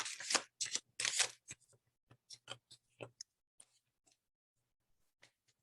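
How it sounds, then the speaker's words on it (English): Tarot cards shuffled close up: several quick riffling bursts, then a scatter of softer taps and flicks as the deck settles. No talking. "Let's give it a shuffle here."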